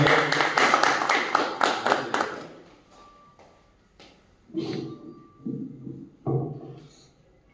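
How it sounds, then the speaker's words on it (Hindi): Audience applause greets a poet taking the stage at a mushaira poetry gathering, a burst of clapping that fades out over a few seconds, followed by short spoken greetings. "जोरदार तालियों से उनका स्वागत करें।"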